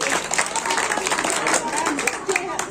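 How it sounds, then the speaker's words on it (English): Audience applause at a Class 7 school science exhibition in Srinagar, a steady dense patter of clapping from a crowd with voices mixed in throughout. "Clap for Vamik."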